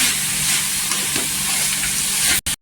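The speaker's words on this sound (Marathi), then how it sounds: "गुलामध्ये घीमध्ये परतून परतून घ्यायचं" Jaggery sautéed in ghee in a pan gives a loud, steady frying sizzle with a broad hiss that runs throughout, then cuts off abruptly near the end.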